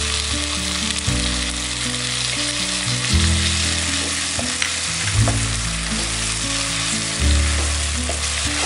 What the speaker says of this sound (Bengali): এখন আমি টমেটোটা এর মধ্যে দিয়ে দেবো।